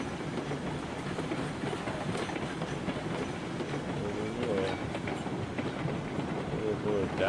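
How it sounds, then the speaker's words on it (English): Rolling stock in the RailRoads Online video game rumbles steadily along the rails, a continuous dense clatter at moderate level with faint squeals of wheels partway through, no pauses throughout. "You can definitely hear the stock rolling."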